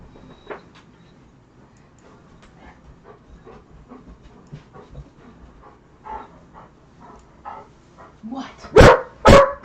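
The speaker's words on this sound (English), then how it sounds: "Barking in the background." Dog barks in the background during a live Pittsburgh Steelers vs. Cleveland Browns watch broadcast, a scattering of short yaps under steady talk, building to a few louder, closer barks at the end.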